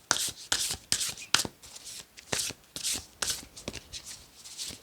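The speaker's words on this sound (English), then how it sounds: "I'm not very good at shuffling" Tarot cards are shuffled by hand in a steady run of soft, papery riffling bursts, close and fairly quiet, with no talking.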